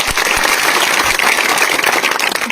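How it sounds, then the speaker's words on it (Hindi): A crowd at a speech gathering breaks into loud, dense applause, sustained clapping filling the whole stretch without talk. "इसके लिए जोरदार ताली बजाओ"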